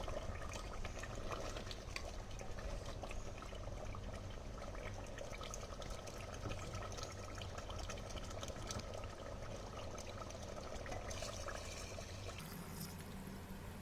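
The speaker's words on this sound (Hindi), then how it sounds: "अब हमें इसमें गोश्त को गलाने के लिए पानी ऐड करना है।" About a litre of water is poured into a clay pot of mutton cooking in ghee and spices, giving a continuous, steady pouring and splashing wash that runs unbroken and fairly close.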